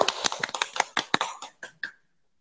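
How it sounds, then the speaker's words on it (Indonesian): Applause from a small school audience for a guest speaker, a burst of irregular hand claps that thins out and stops after about two seconds. "Tepuk tangan untuk Pak Greni ya"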